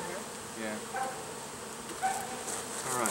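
Honeybees buzz around a hive during an inspection after a swarm has settled in a bush. The hum is a steady, dense drone, with individual bees flying close by now and then.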